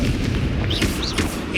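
A Confringo explosive spell blast in the Hogwarts Legacy video game on PC hits as a heavy, rumbling boom with crackling debris, loud and sustained through the whole short moment.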